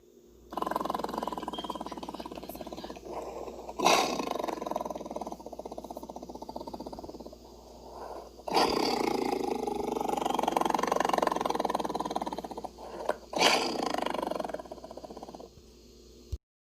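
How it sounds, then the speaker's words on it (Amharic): Deep, rumbling growls and roars from a big cat, repeated in several long bursts separated by short gaps, fairly loud and close. "ነብር ወይም በእንግሊዘኛው ታይገር ይባላል። ከድመት ዝርያዎች አንዱ ነው። ድምጹን እንስማ።"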